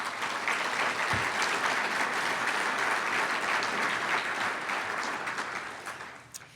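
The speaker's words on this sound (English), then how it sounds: "If everyone could give a round of applause." Audience applause at the 2013 Marquette University Real Estate conference keynote, a dense steady clapping from a crowd that fills the room and fades out near the end.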